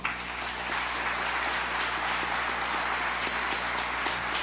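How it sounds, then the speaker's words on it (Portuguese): A church congregation applauding during a service, dense sustained clapping from many people in a reverberant hall, loud and even throughout with a low hum underneath. "Pode dar um aplauso ao Senhor?"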